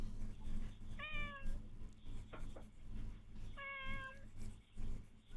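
A cat meows twice, picked up by a Ring doorbell outdoors, each cry a short rising-and-falling call about two and a half seconds apart, faint over a low steady background hum.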